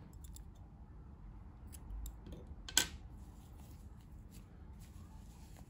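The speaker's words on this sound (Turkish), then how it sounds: "İpliği kesiyorum." Scissors snip once through yarn after a crochet row is finished, a single short, sharp cut over faint room noise.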